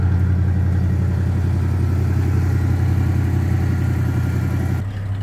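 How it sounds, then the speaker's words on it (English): A 1955 Studebaker Speedster engine idles just off the fast-idle cam in a loud, steady, close rumble with an even exhaust beat that dips slightly right at the end. "Here's the car idling just off the 5-throttle cam"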